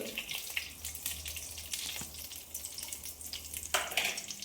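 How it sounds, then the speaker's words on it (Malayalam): Mustard seeds and green chilli fry in two teaspoons of hot coconut oil, giving a steady soft sizzle with sharp crackling pops scattered throughout. "ആദ്യം കടുക് നമ്മളിടുന്നു. അതിൻ്റെ കൂടെ അല്പം പച്ചമുളക്,"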